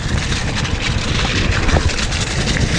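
Steady, loud wind rushing across the microphone, a constant broadband roar with gusty buffeting throughout, like air blasting past while riding.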